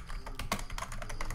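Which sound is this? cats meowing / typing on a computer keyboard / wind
typing on a computer keyboard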